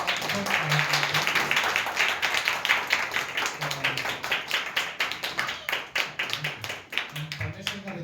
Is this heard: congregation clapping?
yes